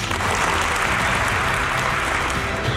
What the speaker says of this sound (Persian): تشویق جانانه کنید